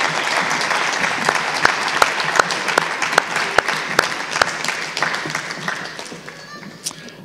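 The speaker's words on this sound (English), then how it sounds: "Please give all of these ladies a round of applause." Sustained audience applause from a seated crowd at a Senate bill-enactment celebration, dense clapping with a few sharp individual claps standing out, steady for several seconds before tapering slightly at the end.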